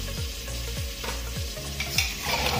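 Mutton being stirred into sizzling curry gravy in a pan, a loud continuous frying hiss broken by regular scraping strokes of the spoon, close and alone.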